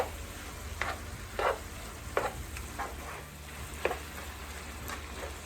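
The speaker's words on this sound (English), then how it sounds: "Let's give that a stir so it starts melting" Cheese stirred in a hot pan to melt it for a gluten-free Philly cheesesteak casserole with pasta and beef, with a soft continuous sizzle broken by a handful of sharp scraping spoon strokes, close and fairly quiet.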